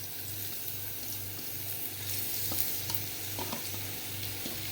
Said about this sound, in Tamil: எண்ணெய் காஞ்சோடனே கேரட்டை போட்டு நல்லா